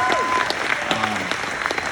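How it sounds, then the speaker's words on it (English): A short burst of scattered clapping from a small group, with voices mixed in. "y'all should clap for Emily."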